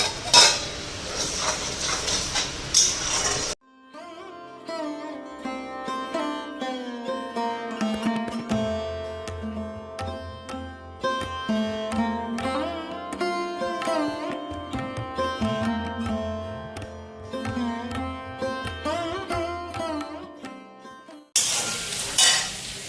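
Paneer and spices fry and are stirred in a pan, giving a sizzling hiss with utensil scrapes that is heard briefly at the start and again at the end, while a long stretch of music fills the middle.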